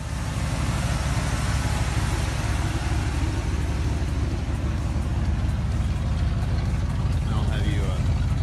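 A Firebird's new engine idles and runs with a constant low rumble, loud and steady from start to finish.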